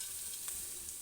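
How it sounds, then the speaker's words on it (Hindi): Cracked wheat porridge (dalia) being roasted and stirred in a pan, a steady soft sizzling hiss with a faint scrape midway, continuous and close. "अब मैं इसमें डालूँगी दलिया।"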